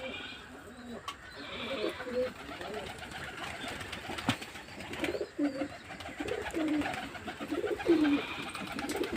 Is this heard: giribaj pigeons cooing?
yes